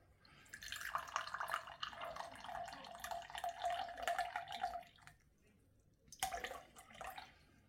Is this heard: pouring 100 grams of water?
yes